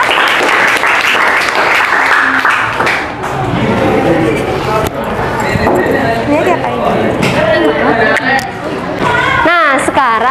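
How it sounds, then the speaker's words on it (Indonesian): A classroom of students applauds a classmate after her presentation in a science lesson, steady loud clapping lasting the whole stretch with a teacher's voice over it. "Kasih tepuk tangan untuk Vanessa."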